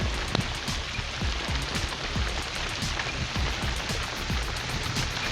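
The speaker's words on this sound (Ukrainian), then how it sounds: "Такий дощ косий забиває." Steady slanting rain falling hard while fishing, with a dense patter of drops striking a nearby surface and a few louder splats standing out.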